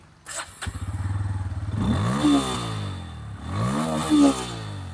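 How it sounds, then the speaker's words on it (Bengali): A keyless motorcycle fitted with a smart lock cranks with a rapid stuttering starter burst, then catches and idles, rising in two short revs nearby with no talking. "আমি বাইকটি স্টার্ট করব এখন তো আপনারা দেখতে পাবেন"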